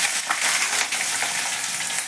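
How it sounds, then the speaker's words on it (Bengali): Eggplant pieces fry in hot oil with green chili and nigella seeds, a short burst of loud, close, crackling sizzle with slight pulsing swells. "এবার কাঁচা লঙ্কা আর কালো জিরে ফোড়ন দিয়ে বেগুনগুলো ভালো করে ভেজে নেব"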